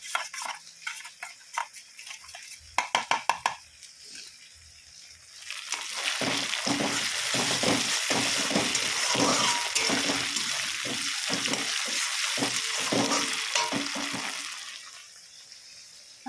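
Spice paste sizzles in a hot frying pan with a steady hiss, broken by stirring clicks and scrapes, and preceded by a few sharp taps of utensils against the pan.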